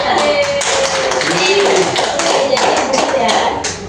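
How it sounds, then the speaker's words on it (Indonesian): Classroom applause, a crowd of students clapping quickly and steadily for a few seconds, close and fairly loud, with murmured voices mixed in. "Oke, beri aplaus dulu."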